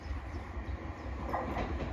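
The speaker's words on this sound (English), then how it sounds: "Right, here comes the train." A Merseyrail train pulling into a station on the Liverpool network, a steady low rumble and rolling rail noise holding close and continuous throughout.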